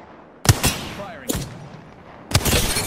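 Gunfire in the Apex Legends video game comes as three sharp, separate blasts spaced about a second apart, each with a short ringing tail over a quiet background.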